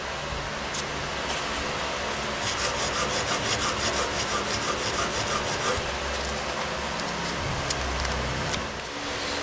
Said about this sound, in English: go through enough sandpaper, eventually you're going to have all those file marks out